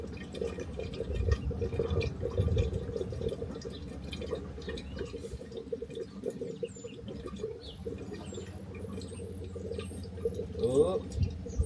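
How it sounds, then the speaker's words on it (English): Water trickles and gurgles through the plumbing of a self-built VW Crafter camper van as a hot water system is filled, with irregular drips and air-laden bubbling sounds, some soft background noise, and faint bird-like chirps. "Oh, I can hear the water running through the pipes."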